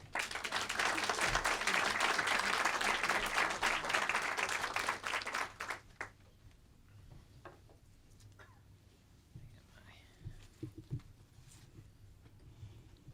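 Audience applauding to welcome author John Judis, a dense sustained burst of clapping for about six seconds that then fades into quiet room noise with a few faint sounds.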